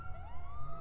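A police car siren from the video game GTA 5 wails in a smooth rising tone, fairly quiet and steady over a low engine-like hum, with no talking.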